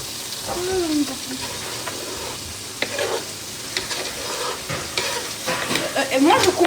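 Carrots, onions and leeks sizzle and fry in a pan while being stirred, a steady close hiss with scraping stir sounds and occasional clinks, a voice faintly present underneath.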